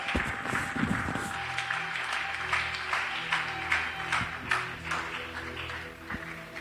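A church congregation applauds and cheers the Lord as a pastor comes forward, steady clapping with scattered voices and tones, fairly faint and continuous throughout.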